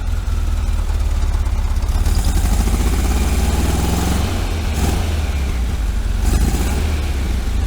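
A 1973 VW Super Beetle engine fitted with a Dellorto FRD 34B carburetor idles while warming up, a steady loud low rumble with slight unevenness and a couple of brief swells in pitch, no voices.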